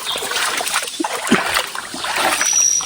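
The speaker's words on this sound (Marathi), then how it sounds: "हे पाट आहे, पाण्याचा पाट आहे हा." Water runs and splashes along a small irrigation channel in the Konkan countryside, a steady close burble with brief splatters and no talking.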